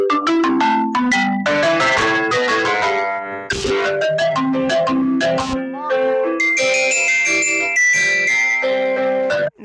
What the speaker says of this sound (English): Marimba, piano, and bell.